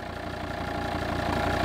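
A 2006 Volvo V70 2.4 litre five-cylinder diesel idles steadily, a close, even engine hum with a faint clattering knock that holds level throughout with no voices.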